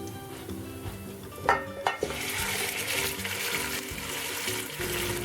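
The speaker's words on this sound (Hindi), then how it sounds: "अब गोश्त डालकर 1-2 मिनट भूनें यहां तक कि ब्राउन हो जाए।" Mutton added to browned onions in a pot for Kashmiri rogan josh: a few clanks and a splash, then a steady, fairly quiet sizzle of frying meat, no talk.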